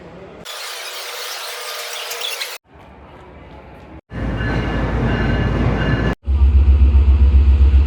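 The Jaffar Express passenger train stands at platform 5, its deep rumbling and hissing coming through in loud, abruptly changing stretches with metallic tones.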